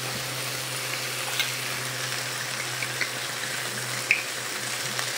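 Water just added to a hot pan of kangkong with vinegar, giving a steady soft sizzle and hiss with a faint low hum underneath and a few small pops.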